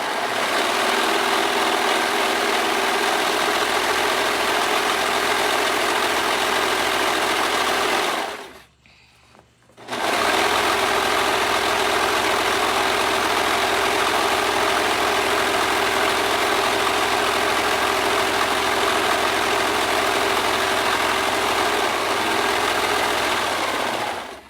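A sewing machine stitching a skirt seam runs loud and steady with a constant mechanical whir, stops briefly for about a second partway through, then starts again and continues evenly, close up with no talk.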